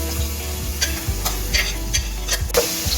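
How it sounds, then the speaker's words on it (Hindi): Garlic frying in oil in a pot gives a steady low sizzle, with a few sharp clinks and scrapes of stirring against the metal. "गार्लिक हमारा फ्राई हो चुका है।"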